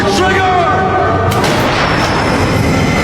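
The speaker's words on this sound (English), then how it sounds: "But after the gunshot," A single gunshot fired at a magician during a bullet-catch stage performance booms loudly and close, its blast rolling into a rumbling, noisy decay that fills the whole moment.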